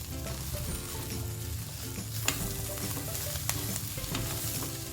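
Spinach and chopped coriander are stirred in a hot pan for a kebab mixture, with a steady close sizzle of frying and occasional sharp clicks of the spoon against the pan.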